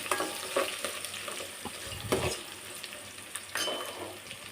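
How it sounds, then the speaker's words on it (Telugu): Chana dal, urad dal and mustard seeds fry in hot oil for a Telugu-style aloo pulao, a close sizzle broken by a spoon stirring and scraping against the pan. "వేసిన తర్వాత ఒక్కసారి బాగా ఫ్రై చేసుకోవాలి"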